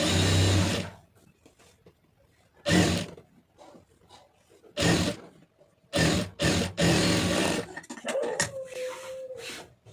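A sewing machine stitches around a blouse lining in loud bursts, starting and stopping repeatedly with short pauses between runs, close up, with a brief whining tone near the end.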